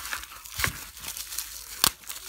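Bubble wrap packaging around a hand spinner is opened by hand, a few sharp crinkling and tearing bursts close up, no voices.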